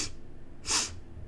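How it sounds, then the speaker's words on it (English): A dragon, Neijan the Molten Queen, gives a single short breathy sniff close up, a soft airy burst standing alone amid quiet. "sniffs you again."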